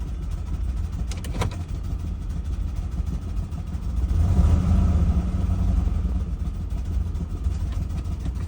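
A 2008 Ford Expedition engine with its check engine light on, revving in neutral toward the limiter and shuddering: a steady, close, low rumble that swells and roughens around the middle, with no talking.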